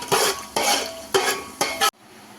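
Fennel seeds fry in a pan for chicken pulao, crackling loudly in four bursts of spatula stirring, each scrape over a bright sizzle, before the noise cuts off abruptly.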